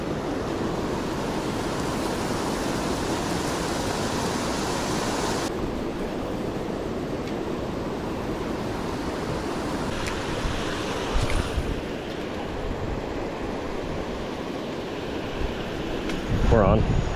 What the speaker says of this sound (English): Man, look at this spillway.